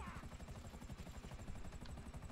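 Helicopter rotor in Grand Theft Auto V, a steady rapid chopping thrum held at low level throughout, with no talk over it.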